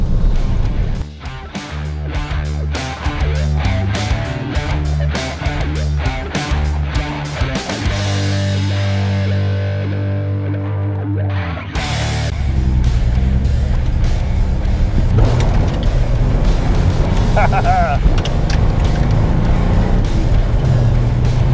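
A barn-find Datsun 280Z, off the road for 18 years, drives along with its engine droning loudly from inside the cabin, revving up through the gears, pausing for a shift, then pulling steadily again.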